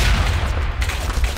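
Video game gunfire during sniping, a dense, loud burst of shots and booms filling the short stretch with continuous crackling impacts and no speech.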